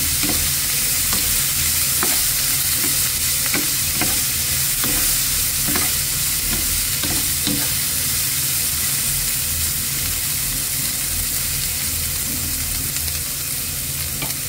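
Vegetables stir-fried for bihon guisado, a loud continuous sizzle close by with regular scraping strokes of a spatula against the pan.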